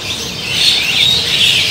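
Birds at the Pasar Lembang bird market, where Javan mynas are sold, chirp and whistle in a continuous bright chatter, with a few louder calls rising over the busy background.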